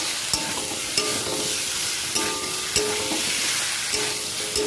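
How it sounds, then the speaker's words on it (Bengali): Spice paste for a jackfruit and prawn curry frying hard in a pan, a steady loud sizzle broken by several sharp spatula scrapes and taps against the metal as it is stirred, with no voices. "এবার খুব ভালো করে কষিয়ে নিতে হবে যাতে মশলার কাঁচা গন্ধটা না থেকে যায়"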